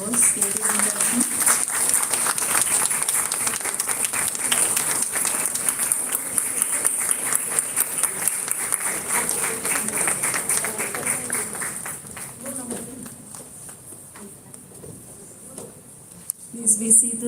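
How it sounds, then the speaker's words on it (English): An auditorium audience at the GD Goenka Confluence 2024 applauds as chief guest Smt. Smriti Irani enters: a long, dense wash of clapping that holds steady, then thins out toward the end, with a voice talking over it. "Round of applause, ladies and gentlemen."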